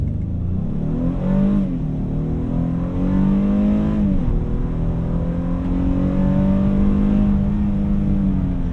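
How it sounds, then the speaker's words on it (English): Honda Ridgeline pickup floored from a complete stop to 60 mph, engine revs climbing strongly through several gear changes with brief dips between shifts, heard from inside the cabin. "let's go ahead and do a 0 to 60 in the Ridgeline, come to a complete stop,"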